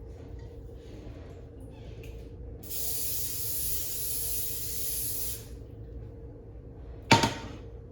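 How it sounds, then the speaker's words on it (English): Cooking spray hisses from a can onto a warm pan for about three seconds, steady and close, then a short sharp clack follows in a quiet kitchen. "now it is warm enough for me to spray with cooking spray."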